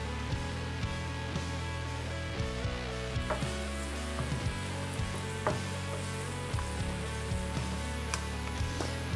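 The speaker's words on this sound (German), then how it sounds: "Und währenddessen brate ich die restliche Zwiebel in Olivenöl." Onions fry in olive oil in a pan, giving a continuous close sizzle with scattered soft pops and occasional clinks of a utensil stirring, with no one talking.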